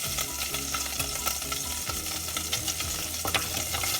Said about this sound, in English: So here I'm frying away bacon.